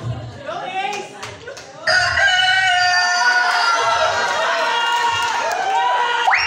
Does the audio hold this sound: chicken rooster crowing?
yes